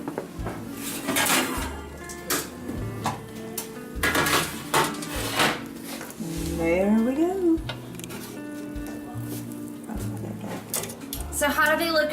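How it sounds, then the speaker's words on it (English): Pork chops being pulled from an oven, with metal pans and utensils clanking and rattling in short bursts, close by, while people talk over the clatter. "Time to get the pork chops out of the oven."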